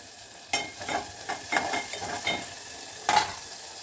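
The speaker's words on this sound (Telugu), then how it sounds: "ఉప్పు వేసి ఈ ఉల్లిపాయలు పచ్చిమిర్చి మంచిగా వేగాలి" Onions and green chilies fry with salt in a pan for a tamarind stew, giving a steady soft sizzle broken by several stirring scrapes and one louder burst near the end, with no talk.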